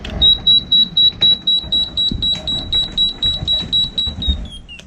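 A loud, high-pitched electronic boat alarm beeping in rapid steady pulses, close by, ending with a brief falling tone.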